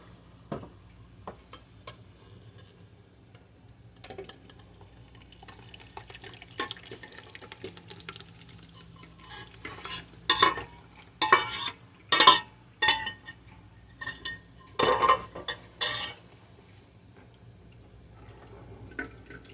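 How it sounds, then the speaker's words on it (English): Blackberry juice is scooped from a pot into a strainer over a big bowl, scattered clinks and scrapes of a utensil against metal, then a burst of louder knocks and splashes near the end. "I'm going to get the rest of my juice in here out of my pot."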